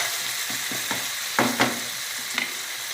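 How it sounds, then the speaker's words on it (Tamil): Ginger garlic paste sautés in a pan for a Tamil home-style chicken masala, a steady sizzle and hiss with a few light stirring scrapes and taps, close by and with no talking. "இதோடைய பச்சை வாசனை போகிற வரைக்கும் லைட்டாக அப்படியே வதக்கிடலாம்."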